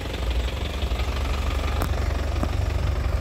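A 2007 Isuzu Panther LS turbo diesel idling, heard close at the exhaust pipe: a steady low rumbling chug with a rapid knocking pulse and faint clicks.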